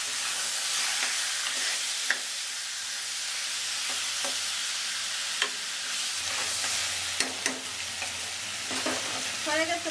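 Fish heads cut from an 8.5 kg fish fry in hot oil with a loud, continuous sizzle, broken by occasional sharp pops and crackles; close and steady, without talk.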